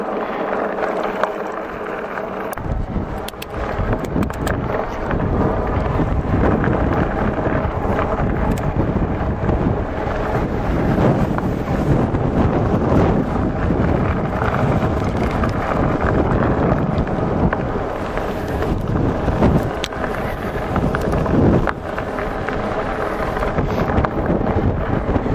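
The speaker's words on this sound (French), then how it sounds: "Il y a un vent de folie" Strong, steady wind buffeting the microphone during a ride on a Himiway Cobra electric mountain bike, a loud continuous rumbling roar throughout with no talking.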